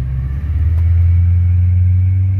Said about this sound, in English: Of course, you hear the exhaust, but you hear a lot of that idle air control noise